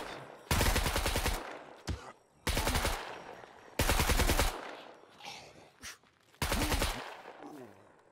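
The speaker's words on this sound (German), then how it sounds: "Ich hab mal auf den Boden geschossen" Automatic gunfire in the survival game SCUM comes in four loud, close bursts of rapid shots, each a second or so long, separated by quieter gaps of movement and faint voices.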